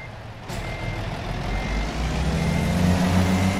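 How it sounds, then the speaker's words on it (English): Truck reversing alarm from American Truck Simulator, steady repeated beeps over a low diesel engine rumble and a brief air hiss near the start, no talking. "I should reverse my vehicle back."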